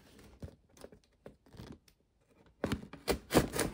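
Cardboard packaging of a Mattel WWE retro wrestling ring toy box is cut and ripped open, short scraping and slicing strokes that build into louder tearing rasps near the end, close up and with no talking.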